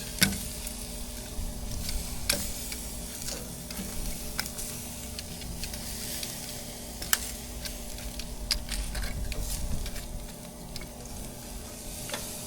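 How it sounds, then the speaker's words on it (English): Jerk chicken wings sizzling on a grill, a steady soft crackle and fizz with scattered sharp pops and clicks from flipping, fairly quiet and close throughout. "now we're gonna go ahead and flip over the chicken wings"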